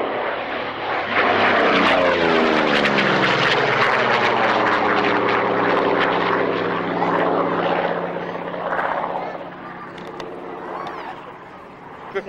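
An American piston-engine fighter aircraft at an airshow makes a loud, close propeller-engine roar that sweeps past with a falling pitch, then fades into a more distant drone.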